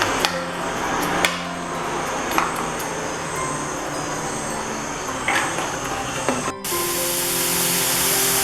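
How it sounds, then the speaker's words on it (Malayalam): Steady, dense sizzling of onions frying in hot coconut oil, continuous and close, with a few sharp clinks and a brief pause near the end. "ഉള്ളി ഇട്ട് നന്നായിട്ടൊന്ന് വറുത്തെടുക്കാം"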